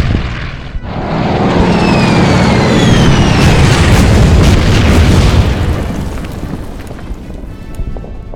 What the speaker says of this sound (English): I think the next best thing is to maybe go for a bombing run.